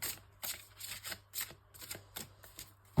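Tarot cards being shuffled in repeated quick riffling bursts, close and fairly quiet, with a short pause between bursts and no talking.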